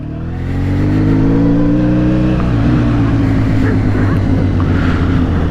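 A Honda VFR1200F motorcycle carrying panniers rumbles loudly up close as its engine pulls away, pitch climbing through a gear change and settling into a steady, strong drone.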